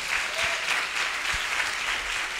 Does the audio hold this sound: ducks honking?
no